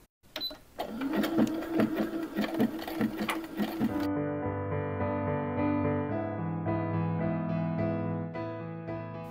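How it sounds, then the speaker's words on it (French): A sewing machine stitches a Christmas dress in quick, close, rhythmic bursts of mechanical clatter for about four seconds, then a steady tonal hum with shifting pitches takes over. "Et puis on va coudre et c'est parti."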